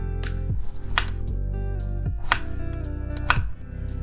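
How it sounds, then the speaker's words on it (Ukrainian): A knife slices a zucchini into thin rounds on a cutting board, several crisp taps at a regular pace, close up with no talking. "я обрізала ось краї цього кабачка і нарізаю його приблизно завтовшки 5-6 мм"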